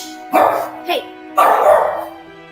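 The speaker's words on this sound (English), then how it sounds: "My dogs are barking because every time UPS, FedEx" Dogs bark in loud, repeated bursts at delivery trucks, two short yelps followed by a longer stretch of barking, close by.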